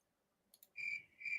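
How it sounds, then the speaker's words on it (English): Crickets chirp in a short sound effect, a couple of quick faint clicks followed by two bright sustained trills, close and isolated against near silence. "More crickets."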